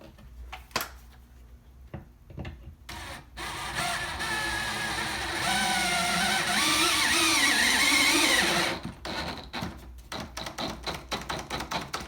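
A power drill drives 3-inch screws through about an inch of wood and half-inch drywall into a wall stud, with a long whirring run in the middle and sharp clicks and taps before and after it.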